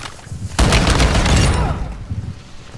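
A single heavy shotgun blast in Call of Duty DMZ, a sharp loud boom followed by a fading rumbling tail, with quieter bumps afterward.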